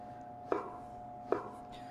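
A knife cutting through stacked vegetable sticks into brunoise on a board, two distinct chops about a second apart, quiet and close, with a faint steady hum behind.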